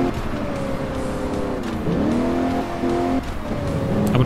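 Cars driving on a busy street in the Alarm für Cobra 11: Das Syndikat video game, with a steady engine drone that shifts in pitch as vehicles rev and pass, loud and continuous, with no talking.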